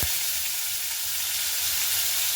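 Cut potatoes frying in hot oil for a raw banana vegetarian dish, a dense continuous sizzle with a faint low bubbling underneath, close and steady with no talk.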